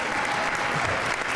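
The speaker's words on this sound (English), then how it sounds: "give me some more claps" An audience at a 2016 small business keynote claps in a dense, sustained round of applause, loud and continuous across the whole stretch.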